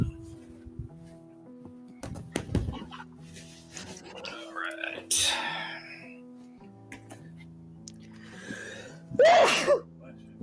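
A person sneezes once loudly near the end, with sharp gasping breaths before it, amid scattered talk and low background hum during a live gaming news podcast.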